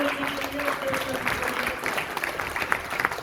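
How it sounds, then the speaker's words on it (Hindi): An audience at a training event claps steadily and densely for about three seconds. Scattered sharp claps stand out from the crowd, and some voices sound faintly underneath. "एक बार इनके लिए एक बार जोरदार तालियां"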